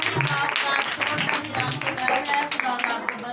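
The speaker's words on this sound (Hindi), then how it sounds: "सारी बहनें अपने लिए जोरदार तालियां बजाएं।" Women at a Pakistani intercessory prayer meeting clap for themselves, a dense run of hand claps filling the room with voices mixed in throughout.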